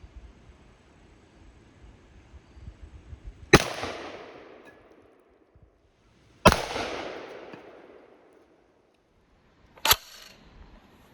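Heavy rifle shots fired at heavy weight targets outdoors, three loud sharp cracks spaced several seconds apart, the first two followed by long rolling echoes and the last a short, clipped blast.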